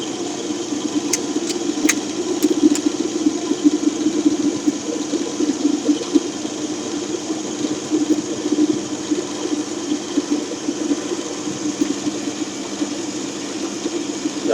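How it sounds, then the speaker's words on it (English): Metal lapidary wheel grinding a rough opal during live cutting, a steady mid-low whir and rumble running continuously with a few brief sharp ticks early on, no talk. "So back to the wheel again, the metal wheel."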